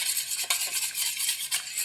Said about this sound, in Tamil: முட்டையை நல்லா கலக்கியாச்சு.